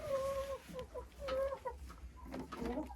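Several hens cluck and croon in a henhouse with egg nests, giving close, repeated warbling calls in short bursts over a low background hum.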